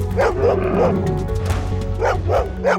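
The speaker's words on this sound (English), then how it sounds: "begin barking and nipping at the cow" Several dogs barking excitedly in quick overlapping yips and woofs, loud and close, over a low rumbling background.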